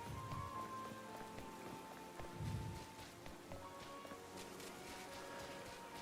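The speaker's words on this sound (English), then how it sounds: "I actually like when it rains in Lumios." Steady, soft rain patters in the city of Lumiose in Pokémon Legends: Z-A, a gentle continuous hiss with faint background tones and occasional low rumbles.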